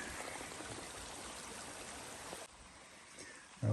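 Creek water rushing and trickling on an Appalachian Trail hike while a bottle is being filled, a steady close hiss of flowing water that drops slightly quieter partway through.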